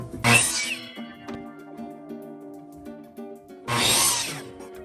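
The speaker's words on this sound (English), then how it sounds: "let's go with a 30-degree angle cut. So I'll just change that on my saw" A power saw cuts scrap wood at a 30-degree angle, with two short, loud bursts of cutting separated by a stretch of humming, tonal motor noise as the blade spins down and winds up again.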